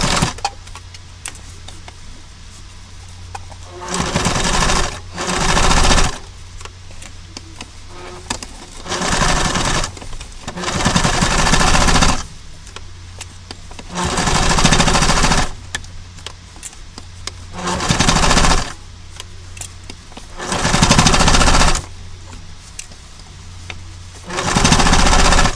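A sewing machine stitches a seam along an earlier line of stitching, running in about seven steady mechanical bursts of a few seconds each, with quiet pauses between them.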